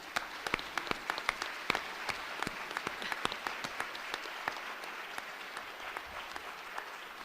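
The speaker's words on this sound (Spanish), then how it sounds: "Un aplauso." Audience applause at a human rights observatory event, the dense clapping steady at moderate volume with a few sharper individual claps standing out as it continues throughout.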